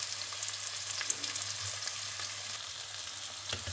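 Turkey fillet frying in oil gives a steady, close crackling sizzle with sharp pops scattered throughout, heard alone without talk.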